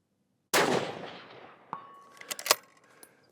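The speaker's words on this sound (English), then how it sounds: "I'm going to shoot on the big target." A single loud rifle shot rings out sharply at an outdoor shooting range and decays over about a second. A few fainter metallic clicks and knocks from handling the rifle follow.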